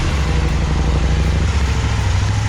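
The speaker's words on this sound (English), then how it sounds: "since the bike is idling" A KTM Duke 790 motorcycle fitted with a Power Commander V sits idling nearby, a steady low rumble with no revving.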